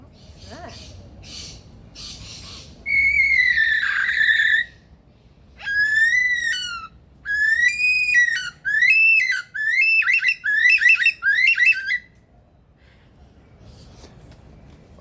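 A lyrebird imitates a kookaburra's laughing call, a series of loud, rising and falling whistled bursts repeated over several seconds, with a person speaking briefly nearby.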